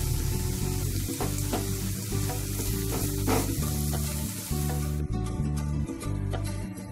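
Spices sizzle hard in hot oil for a Bata fish curry, a loud continuous frying hiss close up, with repeated spatula stirs and scrapes and no one talking.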